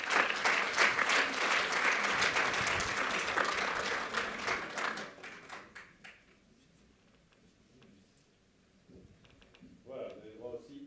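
An audience at a French medical awards ceremony applauds steadily for several seconds as a speaker is welcomed. The clapping fades out, then a voice talks briefly near the end.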